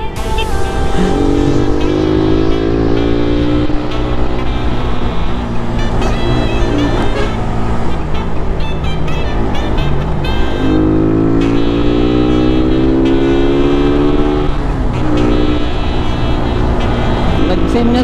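Loud, steady engine drone heard during a Suzuki motorcycle ride on a road in Samar, with a fast truck nearby and rising pitch sweeps as the engine revs, while people talk over it.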